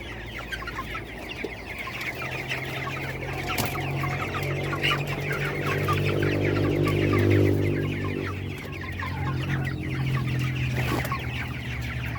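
Chickens cluck continuously in a busy flock, with steady low murmuring and scattered sharper clucks, fairly close and with no talking.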